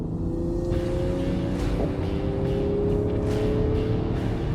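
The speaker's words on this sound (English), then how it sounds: "The sound of this car is fantastic." A Land Rover Defender 300 diesel drives along on the road, giving a steady, loud low drone with a gently shifting engine note and no talk over it.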